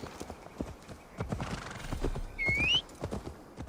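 A horse in the video game Assassin's Creed Valhalla trots in with rhythmic clip-clop hoofbeats and gives a short whinny near the end, close and fairly quiet.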